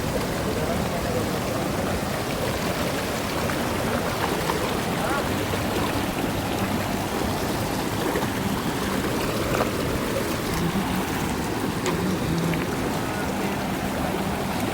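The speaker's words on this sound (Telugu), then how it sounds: "ఇక్కడ వాటర్ సౌండ్ ఎక్కువ ఉండడం వల్ల రీల్స్ చేయడానికి కుదరలేదు" Strong water flow at Ameenpur lake during rain, a loud steady rushing that fills the whole stretch with no pauses.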